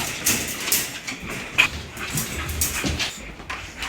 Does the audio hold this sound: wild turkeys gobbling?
no